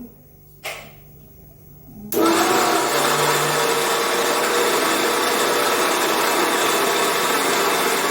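A kitchen mixer grinder blends ridge gourd peel chutney. A short blip comes first, then the motor roars on and grinds loudly and steadily for six seconds without talk.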